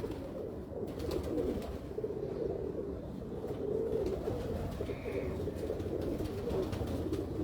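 Domestic pigeons coo steadily at close range in a loft kept by a pigeon fancier, a continuous low murmuring rumble throughout with no talking.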